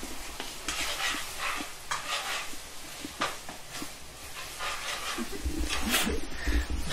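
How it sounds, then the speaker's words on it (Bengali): Food stirred and frying in a home kitchen, a steady sizzle with repeated scraping stir strokes throughout, voices talking at times in the background. "আমাদের রান্না চলছে"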